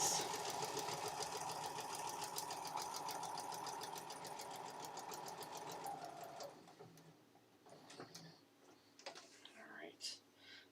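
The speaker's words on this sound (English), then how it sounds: "we're just going to sew right down the lines" Sewing machine running steadily with white thread, stitching down marked lines, a close continuous hum that stops partway through, leaving faint handling noises.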